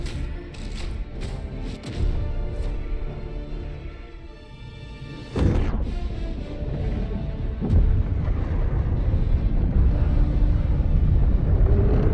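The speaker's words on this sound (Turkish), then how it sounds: "bir de 500 kilo patlama, eğlenceli" A 500 kg bomb detonates in the video game Helldivers 2, a heavy booming blast with a deep rumbling tail, following a series of gunfire and thumps amid a loud, continuous battle din.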